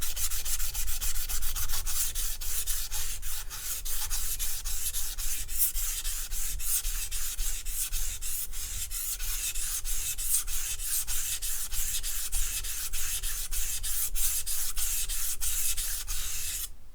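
A soft stainless Martha Stewart kitchen knife is ground on a sharpening stone to reset its bevel, giving steady, continuous scraping and rubbing strokes at close range for the whole stretch, with no voices.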